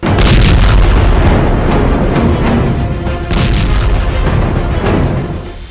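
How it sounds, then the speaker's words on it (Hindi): Explosions from an Israeli airstrike on the southern part of Beirut roar as a loud, continuous wall of heavy booming and rumbling, with no voices. "इजराइल के हमले का वीडियो भी सामने आया है, जिसमें धुएं का गुबार उठता दिखाई दे रहा है।"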